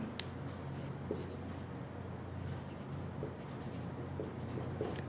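Pen or pencil scratching steadily as numbers are written by hand for a maths lesson, continuous close strokes with faint breathy background and no clear talk.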